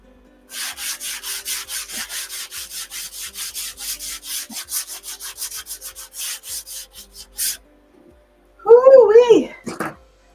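A wood dowel is hand sanded in quick, rhythmic back-and-forth strokes, a close, raspy scratching repeated steadily for several seconds before stopping, followed by a brief exclamation from a voice.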